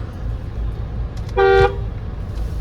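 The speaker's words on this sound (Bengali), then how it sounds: "হর্ন মেরে জ্বালাচ্ছে, কি অবস্থা।" A single short car horn honk rings out over the low rumble of nearby traffic.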